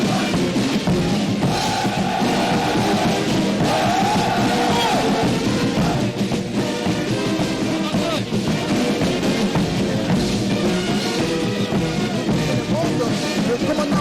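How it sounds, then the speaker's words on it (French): Commando troops of the Congolese armed forces (FARDC) shout war cries during a military parade before the president, a dense, continuous crowd roar of yells and bellows at steady loudness, with voices mixed throughout. "Ils sont là en train de crier, de lancer des cris de guerre."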